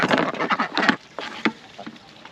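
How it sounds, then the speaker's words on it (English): Ducks quacking in a lively cluster of calls, several loud close bursts in the first second, then scattered quacks trailing off. "now the ducks are in prison"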